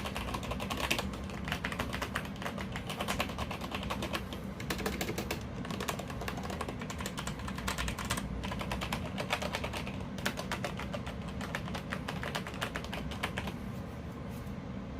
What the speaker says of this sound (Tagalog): Tapos ito naman yung sa Steelseries.